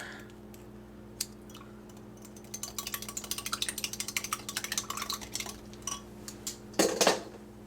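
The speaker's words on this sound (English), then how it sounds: "we're going to add about 1/2 tablespoon of tomato paste that we're going to whisk together to combine" Red wine and tomato paste whisked together for boeuf bourguignon, a fast run of light metallic ticking as the whisk strikes the bowl, close and fairly quiet, ending with a louder clatter of handled cookware.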